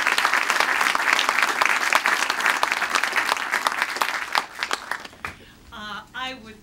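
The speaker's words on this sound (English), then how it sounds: "I would like to lead the audience in giving these people a round of applause." Audience applause at a spring student investment program event, dense and loud for about five seconds, then thinning out and giving way to a voice speaking.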